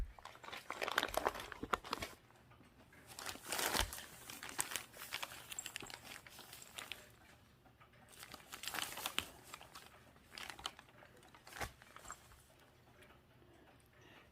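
A cat plays in crumpling newspaper, producing faint, irregular crinkles, rustles and crunchy bursts in repeated flurries across the stretch, quiet and close with no voices.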